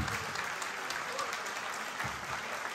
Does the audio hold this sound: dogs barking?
no